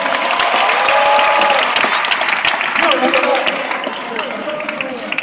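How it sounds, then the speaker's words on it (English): A college audience at a hypnotist show applauds the volunteers with loud, sustained clapping that runs throughout, thinning slightly toward the end, while voices carry over it. "have a big round of applause for the volunteers"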